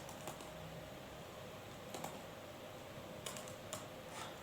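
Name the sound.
typing code on a computer keyboard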